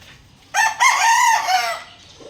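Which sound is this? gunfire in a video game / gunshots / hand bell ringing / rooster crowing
rooster crowing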